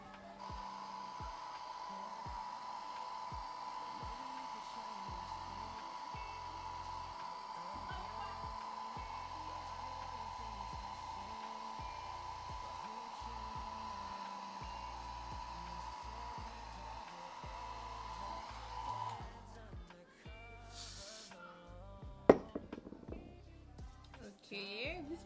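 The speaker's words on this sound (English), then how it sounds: "I guess this is where my hair dryer comes into play." A hair dryer blows in a steady, close whine for most of the stretch during a curly frontal wig install while a person talks over it, then it cuts off and handling noises follow.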